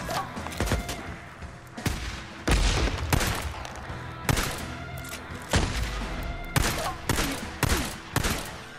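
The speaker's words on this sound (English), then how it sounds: "How can I fire those many rounds and miss at that range?" Gunfire in the Days Gone video game, single heavy shots and short bursts ringing out at irregular intervals, loud and close with booming tails.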